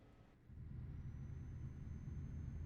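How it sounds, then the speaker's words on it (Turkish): Truck retarder braking in Euro Truck Simulator 2: a quiet cab hum gives way to a low, steady rumbling drone that sets in after a moment and holds evenly. "Güzel bir rotardır sesi dinledik."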